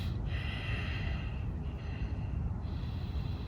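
Deep breaths in and out through the nose during a morning yoga stretch, a few slow, close inhales and exhales heard over a steady low rumble, with no speech.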